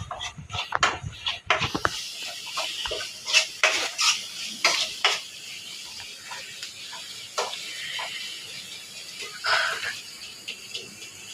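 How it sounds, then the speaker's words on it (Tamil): A spoon stirs food coated in chili powder in a cooking pot, making a run of irregular metallic clinks and scrapes, close and clear, dense at first and then sparser with quieter gaps. "அடி பிடிக்காம நம்ம நல்லா கிளறுங்க"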